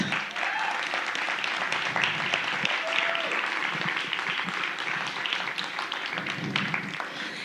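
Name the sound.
congregation applauding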